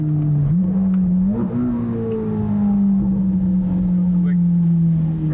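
A 2020 Chevrolet Corvette V8, a rebuilt burnt donor car, pulls away from a stop with a deep, loud exhaust note that climbs through a gear change and then holds a steady drone, with a person talking over it.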